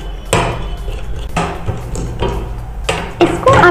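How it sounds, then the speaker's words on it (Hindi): A spoon stirs gram flour (besan) roasting in a pan for laddoos, knocking and scraping against the metal in regular strokes about once a second, close and clear. "अभी मैं इसको चलाते हुए भून लूँगी।"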